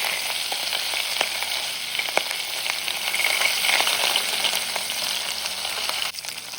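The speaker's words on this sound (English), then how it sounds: "our patty that is cooking is almost ready" Beef burger patty frying in oil in a pan, a loud steady sizzle with crackling pops that fills the whole stretch without letup, close up and with no voices.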